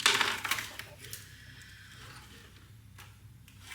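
Small sewing scissors are picked up and handled at a sewing table, giving faint close clicks and light metallic snips over a soft steady background.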